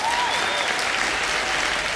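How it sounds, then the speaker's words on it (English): An esports finals crowd applauds in a thick, continuous wash of clapping, loud and even from start to finish. "Let's give a round of applause for our finalists and for our judges."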